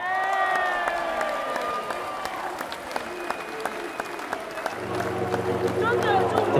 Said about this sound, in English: we would like a huge round of applause, please